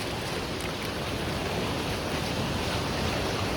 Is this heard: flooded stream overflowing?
yes